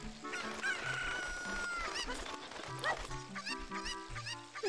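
Cucco chickens from the Zelda: Ocarina of Time game cluck and squawk in a busy, layered in-game mix, with repeated short calls over steady game music and effects, with no talk.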